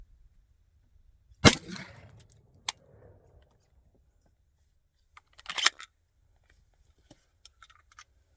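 Sharp, loud report from a 20 gauge slug gun, a single blast with a short decaying tail, followed a few seconds later by a second, softer burst of mechanical clatter and rattling.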